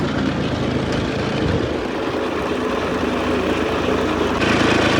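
An old tractor engine runs steadily close by, a loud, continuous mechanical drone with a deep throb that holds for the whole stretch and has no speech over it.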